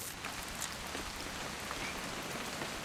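Steady rain falling during a weekend hunting trip in the game What Remains of Edith Finch, a continuous soft hiss of drops with no voices.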